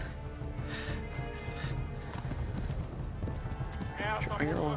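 Horse hooves clip-clop steadily in the medieval video game Kingdom Come: Deliverance, a continuous close trot with a brief whinny near the end, with voices heard alongside.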